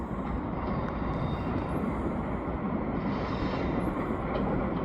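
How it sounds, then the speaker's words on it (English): A train pulls into Griffintown, Montreal in the evening, a steady broadband rumble and roar holding at an even level throughout with no breaks or voices. "here we have another train coming in"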